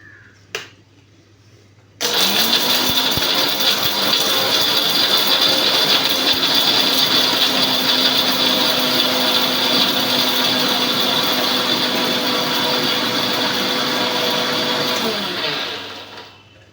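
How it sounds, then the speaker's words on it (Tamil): A mixer grinder grinds coconut and coriander in a loud, steady whirring roar that starts abruptly after a brief quiet moment, holds evenly for about fourteen seconds, then winds down. "தேங்காய் மல்லி எல்லாம் அரைச்சி எடுத்துக்கணுங்க"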